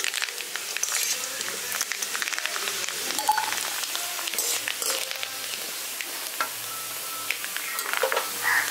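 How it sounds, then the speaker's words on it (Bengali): Grated coconut fries in oil for a village-style vegetable chop, making a soft continuous sizzle with light crackles and faint stirring close by. "নারকেলটা দেখুন আমি হালকা করে লালচে কালার করে ভেজে নিচ্ছি"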